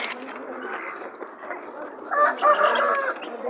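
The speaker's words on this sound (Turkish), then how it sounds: "Burada da tavuklarımız var." Chickens cluck and squawk nearby, with a louder burst of calls midway, amid general background noise of a chicken market in Dörtyol, Hatay.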